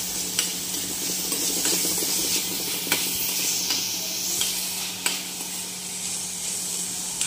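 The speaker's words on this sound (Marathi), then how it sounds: "कांदा टाकून घेतीये, कांदा चांगला परतून घ्यायचा।" Chopped onion sautéing in a hot pan with cumin, a steady bright sizzle with occasional stirring scrapes and clicks, close and continuous with no talk.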